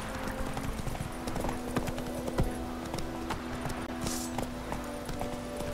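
Hooves of a horse galloping in The Witcher 3: Wild Hunt, a busy, rhythmic clip-clop of rapid hoofbeats running steadily and fairly close over ambient game sound, with no talk.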